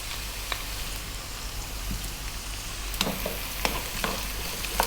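Onion and garlic fry in a pan with carrots, giving a steady close sizzle broken by sharp scraping clicks as the mix is stirred, with no one talking.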